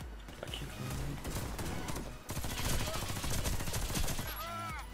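Automatic weapon fire in the shooter game Warface: a loud, close, rapid spray of shots in continuous bursts, briefly pausing midway before resuming, with some voice underneath.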